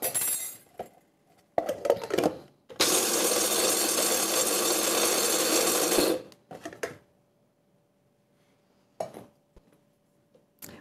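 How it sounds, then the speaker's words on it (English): A spice grinder whirs steadily for about three seconds as it grinds whole spices down to a cracked-pepper texture, framed by short clinks and handling noises of the grinder and jars before and after. "We're just going to grind these up until they are basically the texture of cracked pepper"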